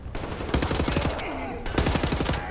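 Rapid bursts of automatic gunfire in Wolfenstein: The New Order, two distinct rattling volleys of closely spaced shots with short gaps between, loud and near, with faint game sounds underneath.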